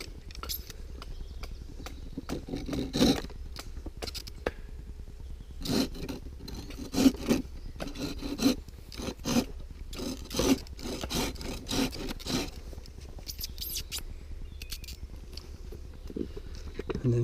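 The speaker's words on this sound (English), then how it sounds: "Now I'm going to just put the little saw cut in." Small saw cutting into a wooden tent peg, a run of short rasping back-and-forth strokes close by, uneven in rhythm with pauses between bursts and faint talk in the background.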